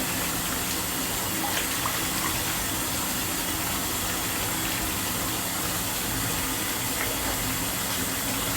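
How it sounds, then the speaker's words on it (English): Hot water gushing steadily from a tap into a bathtub, a constant close splashing rush with no break and no talking. "Getting the nice hot water."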